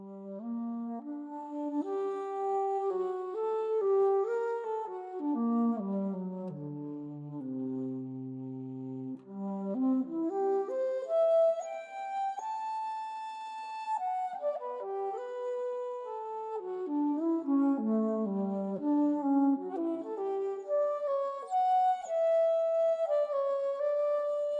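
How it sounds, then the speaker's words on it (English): Solo bass flute from an orchestral sample library, playing a slow, breathy low melody that dips into its deepest register and climbs back up, smooth and sustained with no talking. "then we have the solo bass flute as well."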